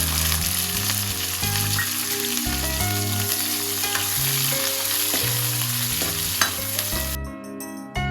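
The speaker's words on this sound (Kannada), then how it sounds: "ಈಗ ಈರುಳ್ಳಿ ಹಾಕ್ತದನ್ರಿ." Onion sizzles in hot tempering oil with green chillies, a dense, continuous frying hiss with light stirring, heard close under steady background music with no talk.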